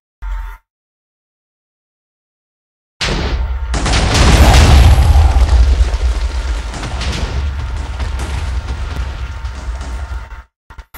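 Dynamite blowing up a castle in a video game, a massive roaring blast with rumbling, crackling debris that rolls on for about seven seconds, loud and close after a brief silence.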